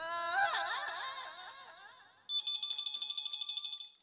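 A phone call ringing through, with a wavering melodic electronic tone fading out, then a bright, rapid pulsing ring that repeats in regular bursts, close and clear, with no voices.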